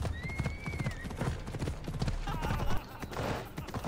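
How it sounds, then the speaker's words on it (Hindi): Horse hooves clip-clopping in the video game Assassin's Creed Odyssey, a steady quick rhythm of close, fairly quiet hoofbeats with brief tonal game sounds over them, no talking. "I need to take this horse to either Adonis or to the stable boy."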